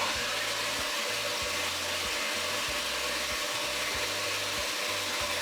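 A hot air gun blows steadily on tempered chocolate while truffles are made, a loud, constant rushing whoosh of air with a low hum underneath and no talk.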